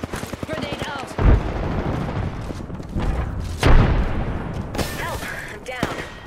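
Grenade explosions in Apex Legends during a squad fight: two heavy booming blasts a few seconds apart, thick with low rumble, among scattered gunfire, while players talk over them.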